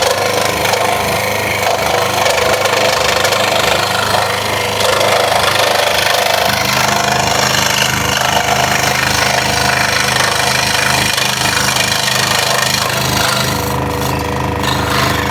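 A scroll saw cuts a Halloween shape from a wooden workpiece in a workshop, giving a loud, steady mechanical buzz and rattling chatter that runs throughout without talk.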